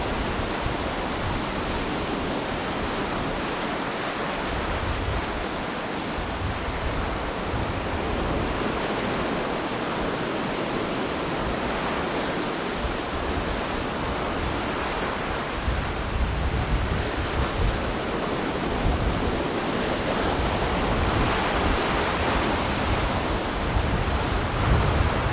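Waves breaking along the Ghana coast make a steady, dense roar of surf that fills the air without pause, mixed with wind rushing across the microphone.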